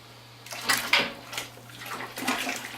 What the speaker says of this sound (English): And while you're doing this, you want to stir it, because it will